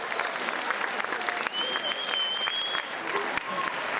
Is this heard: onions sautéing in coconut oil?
no